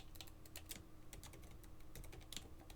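Soft, quick keystrokes on a computer keyboard, steady typing in short irregular runs, faint and close with no voices.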